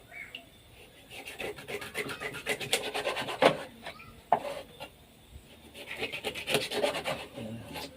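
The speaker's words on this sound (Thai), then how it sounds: "ผมเริ่มสับครับ เริ่มหันแล้วบอกเลย" Giant eel meat is hacked with a blade on a wooden surface, giving repeated irregular chopping and scraping strokes close up, louder bursts in the middle and toward the end, with no talking.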